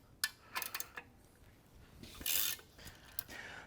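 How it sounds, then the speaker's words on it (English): Wrenches loosening the bolts on an engine stand during an LS engine swap into a 1957 Chevy Bel Air project, giving quiet metallic ratcheting clicks and clinks in short irregular bursts, close by with no talk. "I'm gonna grab a couple of wrenches, get these loosened up."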